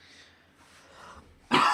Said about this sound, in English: Sorry if I cough and it comes through loud.